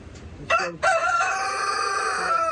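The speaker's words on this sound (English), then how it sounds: "rooster's in there just making noise." A rooster crows close by, a few clipped opening notes sliding into one long, strained cock-a-doodle-doo that trails off.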